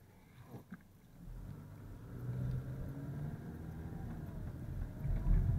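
Gray car rolling past on a residential street, a low engine rumble that builds from quiet to a fuller, steady drone as it nears, moderately close, with no voices.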